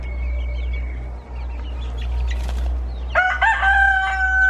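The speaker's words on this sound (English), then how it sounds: "It's a rooster." A young rooster crows once near the end of the clip, loud and close, after a background bird call and a steady low hum in a chicken coop setting.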